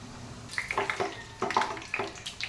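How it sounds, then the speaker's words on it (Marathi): Puris sizzling and bubbling as they drop into very hot oil for sev puri; a continuous crackling fizz with irregular bursts, fairly close, no talking. "तेल आपलं चांगलं कडकडीत तापलेलं आहे त्याच्यामध्ये आपल्याला ह्या पुऱ्या आता"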